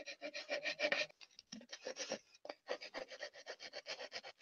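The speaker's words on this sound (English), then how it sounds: "I'm going to take that off and I'm going to sand it." Sandpaper rubs by hand over a turned cherry wood baseball cap, quick rhythmic rasping strokes in close bursts with short pauses between, no voices.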